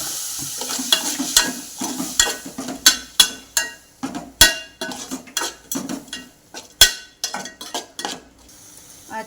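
Fish pickle with spice powder being stirred in a pan: a run of sharp, irregular spoon scrapes and clinks against the metal over a faint background sizzle, close and fairly loud.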